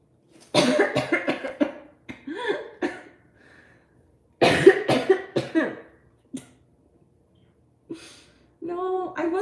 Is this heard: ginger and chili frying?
no